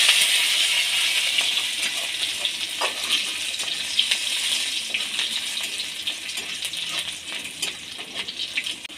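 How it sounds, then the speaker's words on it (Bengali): Chopped capsicum fries lightly in a pan, giving off a steady bright sizzle and hiss close up, with small crackles and pops scattered through it. "ক্যাপসিকাম আমি কুচিয়ে রেখেছিলাম ওটা দিয়ে দেবো হালকা ভেজে নেবে"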